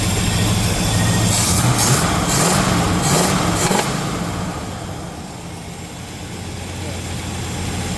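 A cold 1975 El Camino, running again after more than ten years, idles with a steady, even rumble. A person talks over the first half, and the engine keeps running alone afterward.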